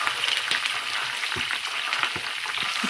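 Curry leaves and chana dal crackling in hot oil for a tamarind paste, a steady close sizzle with small pops and spatters throughout, no voices.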